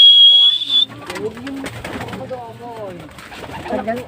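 Pigeons coo and call up close while being fed, a bird's high call at the start giving way to soft repeated coos, with someone talking over them throughout.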